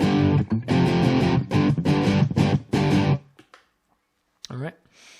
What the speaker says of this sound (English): And then with that DS1 on, but the gain rolled back.